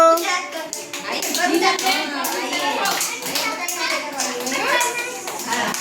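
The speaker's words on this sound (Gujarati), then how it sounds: "હજી તાળી વગાડો હલો" Several children clapping their hands in quick, uneven bursts, close by and loud, mixed with lively chatter and voices from the group.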